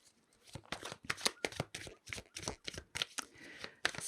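A deck of tarot cards is shuffled and drawn, giving rapid crisp riffles and papery flicks in quick bursts, close and fairly quiet, with no talking.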